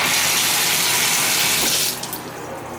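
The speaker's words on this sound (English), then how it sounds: "that shower head works a lot better than I thought it would. Good pressure and a good stream" A hotel shower head sprays a strong, steady stream of water into a bathtub, a loud, close hiss that drops suddenly near the end, with no one talking.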